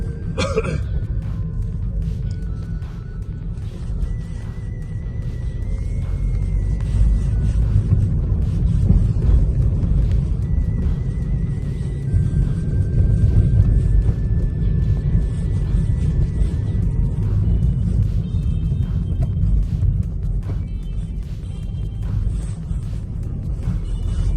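Steady low engine rumble from a car with a cutting-out fault, heard from inside as it pulls away and drives, continuous and fairly loud with no talk.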